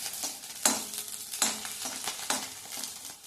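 Green chillies cut into small pieces sizzle and are stirred in a pan for a dry mint and coriander chutney, giving a soft, steady frying hiss with a few scraping stirs.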